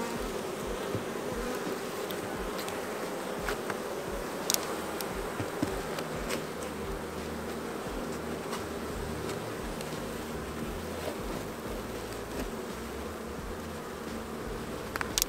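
Honey bees buzz continuously around an open hive during a spring inspection, a dense steady drone close to the mic with faint ticks and small knocks from handling, and no talking.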